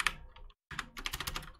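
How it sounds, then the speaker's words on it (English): Quiet, close typing on a computer keyboard while entering SQL Server queries: a brief flurry of keystrokes, a short pause, then a denser run of rapid clicks. "Actually, I'm going to be typing here."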